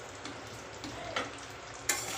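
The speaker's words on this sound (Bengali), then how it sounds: "ঢাকাটা খুলে দেখি আলুটা কতটা ভাজা হলো" Potatoes fry in a pan on the stove, giving a brief, steady sizzle with a few stirring scrapes and a sharper clatter near the end.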